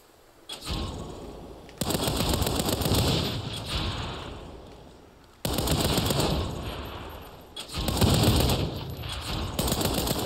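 Bursts of rapid automatic gunfire from the Saints Row reboot game rattle loudly in long sustained volleys, broken by short pauses, with no speech.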